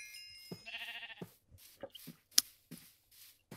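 Sheep bleat in a short burst near the start, a harmonic cry followed by scattered faint clicks and thumps, with no talk over it.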